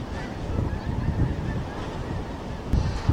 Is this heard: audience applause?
no